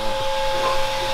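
A steady whirring hum comes from an improvised cooling fan spinning on a KTM 400 EXC motorcycle, close and continuous, with a faint tonal whine.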